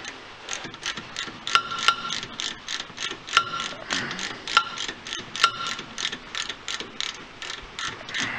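A ratchet clicks in quick repeated bursts while a brake caliper pin is tightened on a Dodge Avenger, the sharp metallic ticks close and fairly loud, with short pauses between strokes.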